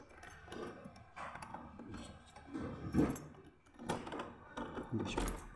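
Keys jingle and rattle in a lock while a door is unlocked, with several clinks and metallic bursts close by and faint voices in the background.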